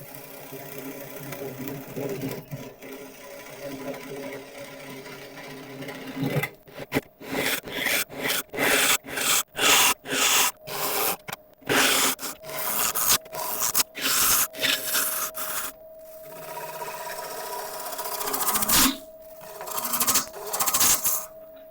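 A lathe turns a London plane wood bowl while a tool makes finishing cuts, producing repeated rhythmic scraping rasps in short pulses over a steady motor hum, close and fairly loud, with no talk.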